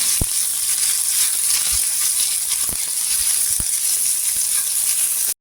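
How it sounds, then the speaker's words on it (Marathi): Sliced onions sautéing in oil on a flat griddle, a loud, steady hiss of frying with a few soft scraping ticks, continuous and close with no voices. "कांदा इथे छान गोल्डन कलर करून घ्यायचा, सोनेरी रंगावर छान असा परतून घ्यायचा तव्यावर."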